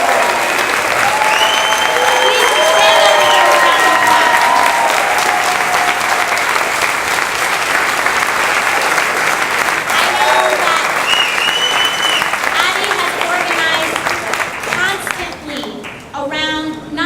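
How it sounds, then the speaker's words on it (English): A large Bronx audience applauds and cheers at a public conversation event, with loud, dense clapping and scattered shouts that hold steady for most of the stretch before thinning at the end as a voice returns. "please stand up for a round of applause"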